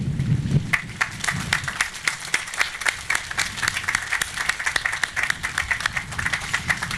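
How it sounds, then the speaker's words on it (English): Applause from an audience at a Memorial Day school ceremony, steady clapping from many hands close by, with a brief low voice murmuring at the very start. "And I want to give a round of applause to Mrs."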